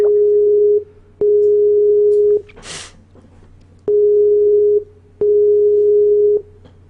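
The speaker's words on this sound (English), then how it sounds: "let me just jump in and get him up on the phone here. Let's get him in on the group call." Repeating phone ringback tone while a group call is placed during a live esports stream, steady single-pitch beeps of about a second each separated by short gaps, loud and alone with no talking.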